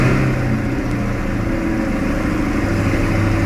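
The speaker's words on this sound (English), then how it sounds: "What an exhaust note on this thing." A stock Chevrolet Corvette C8, started indoors, gives a loud, steady engine and exhaust drone that holds a deep, constant rumble throughout.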